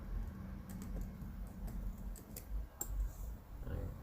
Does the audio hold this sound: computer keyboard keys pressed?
yes